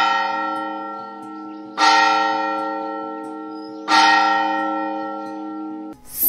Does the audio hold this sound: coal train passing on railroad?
no